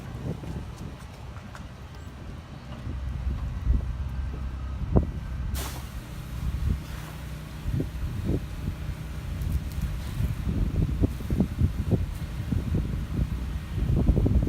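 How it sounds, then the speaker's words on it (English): Gusty wind rumbles and buffets steadily outdoors, with scattered knocks and thumps breaking through the low roar. "it's a little windy, huh?"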